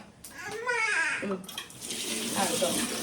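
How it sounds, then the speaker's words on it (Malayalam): Water poured into a cooking pot on a stove, a close splashing gush that starts and stops, running under a speaking voice. "വെള്ളം ഒഴിക്കാം"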